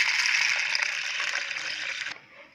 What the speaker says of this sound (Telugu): వీటిలో వాటర్ పోసుకుందాం.